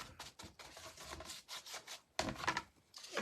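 Sandpaper rubs back and forth over a wooden faux tray in short scratchy strokes, close and fairly quiet, with brief pauses between passes.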